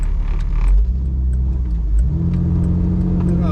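A 2005 Jeep Wrangler LJ engine idles roughly with a low, uneven rumble, the pitch dipping and then settling into a steady throb, close and fairly loud.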